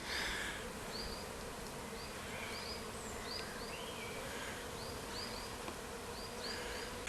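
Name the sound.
bees buzzing around a hive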